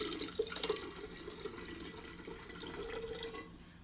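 Water pours into a bottle, filling it to about one litre, a soft, steady trickling and splashing stream that continues throughout at low volume.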